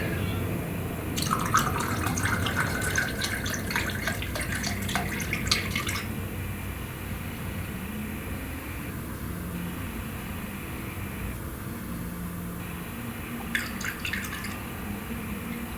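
Alcohol poured and dripping into a container while diluting perfume, with intermittent bursts of splashing and trickling between quieter stretches of drips, close and moderately faint.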